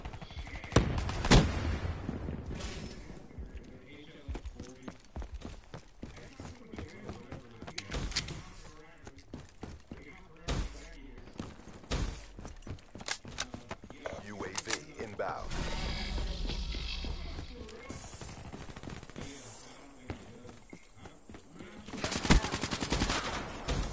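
Rapid bursts of gunfire from a PS4 shooter game, sharp repeated shots scattered through the scene with a louder cluster near the end, mixed with game effects and other noise.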